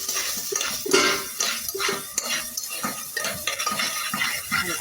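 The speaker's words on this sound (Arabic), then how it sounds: "هنقلب بقى في الثوم لحد ايه ما يدينا لون ذهبي كده" Garlic frying in ghee in a pan, stirred with a metal utensil: repeated scraping and clinking strokes against the pan over a faint sizzle, close and rhythmic.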